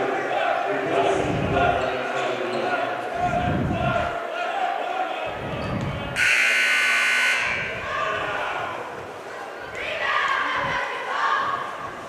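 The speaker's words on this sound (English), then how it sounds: "But at the end of the half, we had one just right there as Wallace terminates." During a boys' high school basketball game, a loud electronic buzzer blares for about a second at the end of the half, cutting through crowd noise and an announcer's commentary.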